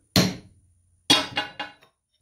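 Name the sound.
hammer knocking transfer punch into metal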